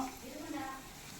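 Onions sautéing in a pan, a soft, steady sizzle with stirring, faint and close, lasting about a second with no talk.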